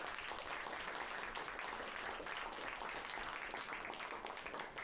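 An audience applauds at a business talk, a dense continuous patter of clapping that stays even and fairly faint for several seconds.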